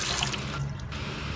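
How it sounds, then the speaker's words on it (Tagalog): Chili leaves are rinsed under a running kitchen tap, a steady close splash of flowing water with faint drips and no talk. "Hugasan na rin ho natin yung dahon ng sili."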